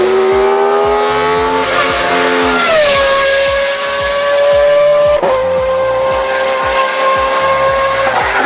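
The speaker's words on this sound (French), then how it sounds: "quand tu mets ça avec un V10 et que tu mets ça dans une Supra, bah en fait ça te fait une Supra de Formule 1" V10-powered Toyota Supra drift car revving hard at very high rpm, a loud, close, sustained screaming engine note that climbs, dips briefly and holds high again, with tire noise underneath.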